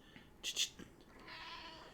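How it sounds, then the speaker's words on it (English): A cat meows close by, two quick high calls in the first half, followed by a softer hiss-like breathy sound in a quiet room. "Hello, cat. Are you here to meow at me?"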